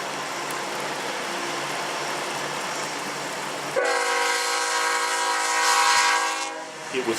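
CSX freight train Q142 crawls downhill in full dynamic braking, a broad rumble giving way to a loud, steady multi-tone horn blast close by, then fading.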